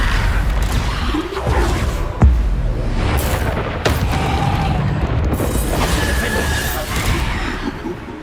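Spell explosions and whooshing magic effects in the video game Hogwarts Legacy: repeated booms and bursts over constant game noise, loud and close, with a few sharp impacts.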